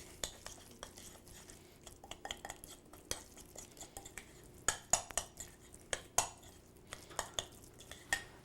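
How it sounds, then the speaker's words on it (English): Garlic is stirred in a pan, with a utensil clinking and scraping against the metal in quiet, irregular taps that grow slightly louder and sharper toward the end. No one speaks. "I've already put the garlic in there. I'm going to mix it up."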